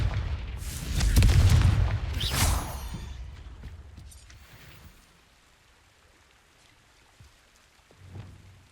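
Confringo fire spell explosions in the Hogwarts Legacy video game, a loud rumbling blast with crackling debris that swells, then fades into a long low tail, followed by a smaller thud near the end.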